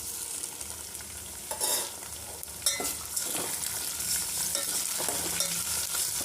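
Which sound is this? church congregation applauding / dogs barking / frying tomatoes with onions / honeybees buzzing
frying tomatoes with onions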